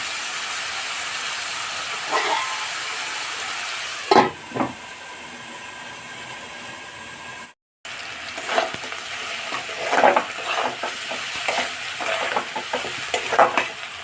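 Vegetables frying in a covered pan, first a steady muffled hiss with a couple of lid or spoon knocks, then after a brief cut a busier sizzle with repeated stirring clatter, close, no voices.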